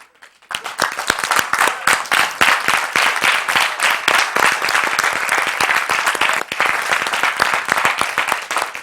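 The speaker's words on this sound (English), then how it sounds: "Give them a hand clap." A church congregation claps loudly and continuously, dense overlapping handclaps filling the room for several seconds after a short quiet start.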